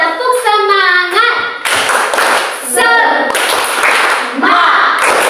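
Indonesian classroom pupils doing a rhythmic clapping chant in sharp, patterned bursts, with voices chanting and calling along loudly throughout.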